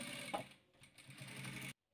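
A sewing machine stitching quilt pieces for a 3D patchwork, a brief run of fast mechanical whirring that stops abruptly.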